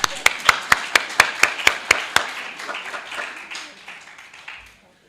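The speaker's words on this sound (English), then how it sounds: "I would suggest that we start by giving ourselves a round of applause" A roomful of listeners at a Crown Heights gathering claps in a crisp, evenly spaced rhythm of about ten sharp beats, then breaks into looser scattered applause that fades out.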